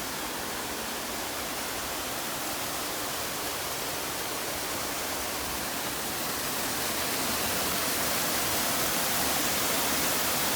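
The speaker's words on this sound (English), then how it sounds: "Here are some of the waterfalls I was just talking about." Waterfalls pour with a constant broad hiss, steady and fairly loud, swelling slightly toward the end, with no voices.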